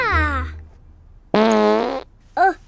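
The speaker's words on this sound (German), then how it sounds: "Oh, gepupst." A loud, drawn-out cartoonish fart in a children's audio play, set amid tower building with blocks, followed by a short second toot, with a voice briefly heard around it.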